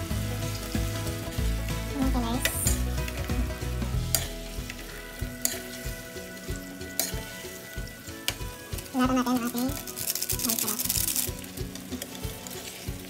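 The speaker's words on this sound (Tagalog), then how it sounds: "Kumukulo na siya." Sweet and sour sauce with sugar bubbles and sizzles in a pan, a busy continuous crackle with stirring scrapes and a few clinks, loud and close, no talk.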